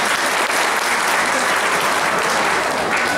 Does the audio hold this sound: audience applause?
yes